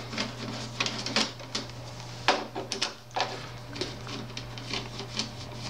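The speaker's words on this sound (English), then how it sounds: "Peel the trim, place it with the sticky side up, and remove the 2 screws." Screws are backed out of the display panel of an HP printer: small clicks, ticks and light plastic knocks come in a scattered rhythm over a steady low electrical hum, close and moderately quiet.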